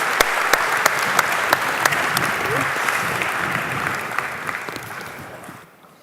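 A conference audience gives a round of applause for a fashion and tech panel, dense clapping with a few sharp nearby claps early on that gradually thins and fades out at the end.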